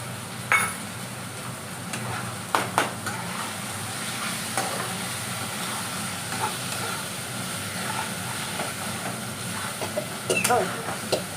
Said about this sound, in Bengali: এবার আমি ভালো করে মশলাগুলো কষবো।